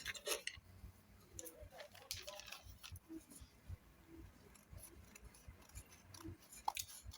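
Scissors trim fabric for a beret, giving soft, close snipping and crisp cutting sounds in an irregular rhythm at low volume, with no talking.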